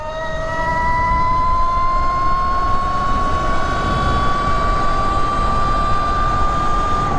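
Electric dirt bike of the 2024 Pro SS type accelerating at full throttle in turbo mode on a dirt track, a loud continuous motor whine rising steadily in pitch with strong wind rumble, no talking.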